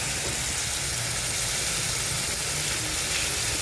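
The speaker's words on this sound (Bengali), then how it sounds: "এই সামান্য একটু দেখুন রসুন দিয়ে দিলাম।" A little garlic sizzles in hot oil in a pan for a kakrol and potato sabji, giving a steady, close, unbroken hiss that holds evenly throughout.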